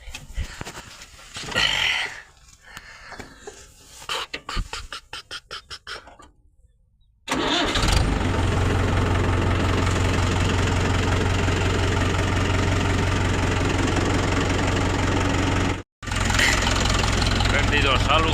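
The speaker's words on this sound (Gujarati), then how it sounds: "આજે આ ટ્રેક્ટરના પંખેથી પાણી વારવાનું છે, અત્યારમાં ચાલુ કરવાનું છે।" After some quiet moments with people talking, a tractor engine fires up abruptly and settles into a loud, steady, close idle as it drives a fan for pumping water on a farm.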